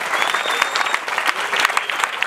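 An audience at a school event where an NGO donates menstrual hygiene kits to schoolgirls claps for the principals and management, a full, lively round of applause with a faint thin whistle-like tone riding over it.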